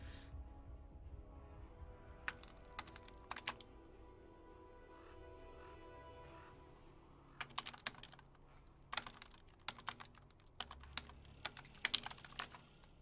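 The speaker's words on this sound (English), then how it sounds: "It takes so much longer to just type these names." Rapid clattering of typing on a computer keyboard while entering names during a game, in irregular bursts of quick keystrokes over a low steady background hum, with quieter stretches between flurries.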